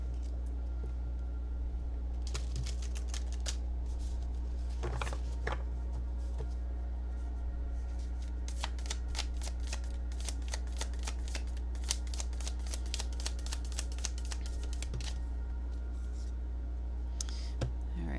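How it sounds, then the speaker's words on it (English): Mystical Shaman Oracle cards are shuffled repeatedly in a quick crisp riffle, close by, in several bursts of rapid flicking over a low steady hum. "One more shuffle."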